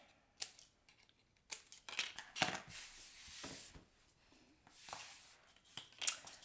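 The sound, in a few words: scissors cutting points off a paper card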